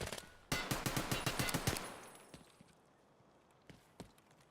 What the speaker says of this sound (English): Who the fuck is throwing nades?